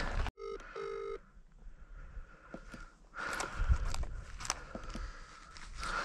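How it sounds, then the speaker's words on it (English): A short burst of telephone keypad tones at the start, a few quick beeps in a row, followed by outdoor rustling and footsteps. "That was me ringing you."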